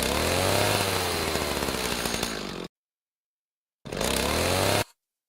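A new chainsaw revs loud and close with a rough, buzzing engine roar, drops out abruptly, then gives a second shorter burst before stopping.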